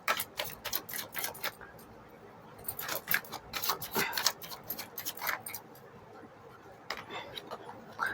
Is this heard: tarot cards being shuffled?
yes